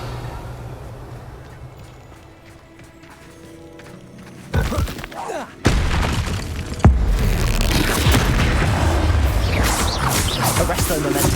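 A Bombarda blasting spell in Hogwarts Legacy goes off with a sudden loud boom and crashing debris, followed by further heavy impacts and a sustained roar of destruction.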